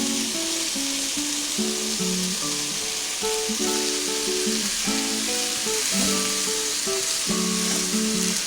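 Mushrooms sizzle and fry steadily on a hot tawa, a continuous loud hiss with no voices, while a faint musical tone runs underneath.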